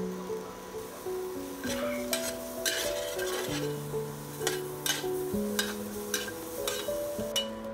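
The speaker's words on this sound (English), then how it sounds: "On a dry pan on medium heat, roast some garlic" Garlic and shallots roasting in a dry pan over medium heat for Thai chili jam, with rhythmic scraping and stirring against the pan over a light crackle, close and moderately quiet, no speech.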